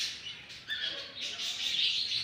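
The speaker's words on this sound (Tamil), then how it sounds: "இதே மாதிரி உங்க வீட்ல எல்லாம் லவ் பேர்ட்ஸ் வளர்க்குறீங்களா?" Pet lovebirds chirping indoors, a brief burst of high, thin tweets and chatter, fairly faint and close.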